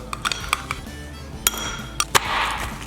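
Carolina-style mustard barbecue sauce is mixed in a dish, with a spoon clinking and scraping against the side in irregular bright taps and a brief stirring swish near the end.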